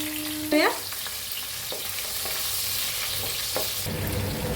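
Long-cut green chillies frying with asafoetida in a pan give a steady, bright sizzle, broken by a few scraping stirs of a spoon, with no voices over it.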